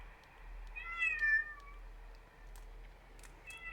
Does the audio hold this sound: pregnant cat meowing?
yes